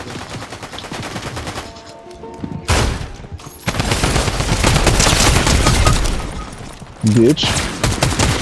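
Rapid gunfire from a Fortnite match crackles in dense bursts, loud and close, with brief lulls between volleys while someone talks and swears over the shooting.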